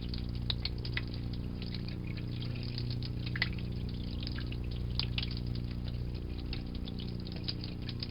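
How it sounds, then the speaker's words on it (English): Cold tap water runs steadily over a clear glass circuit board etched in ferric chloride, a faint, continuous hiss and trickle with occasional small splashes over a low background hum. "I'm going to run this under cold water"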